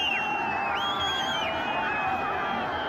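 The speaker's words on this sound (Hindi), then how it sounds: "यहाँ पर बहुत ज़्यादा भीड़ है और अधिक शोर भी है" Dense, noisy festival crowd at Kullu Dussehra, with steady loud murmur throughout and high whistles or shrill calls sweeping over the din.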